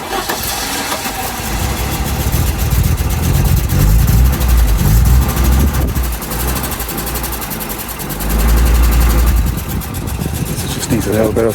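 An Audi Coupe engine, freshly restarted after a leaking fuel filter was replaced, runs loud and close, its steady low idle swelling twice under a little throttle, with a voice talking over it.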